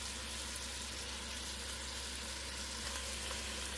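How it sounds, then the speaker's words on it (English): Beef short ribs searing in a hot pan, a steady, soft, continuous sizzle and crackle with no voices. "So, now let those sear off for about 3 minutes."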